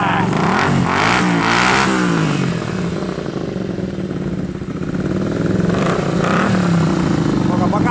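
A Suzuki Intruder motorcycle engine revs up and down with a throaty, rising and falling growl, loud and close, with people talking over it.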